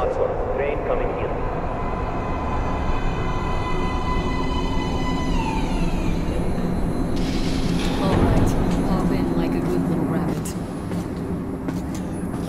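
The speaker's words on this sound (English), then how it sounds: "Please step away from the edge of the platform. Train coming in." A subway train in Metro Last Light rumbles into a station, its low drone and rising tones filling the scene, with a louder mechanical surge midway before settling, while a voice speaks over it.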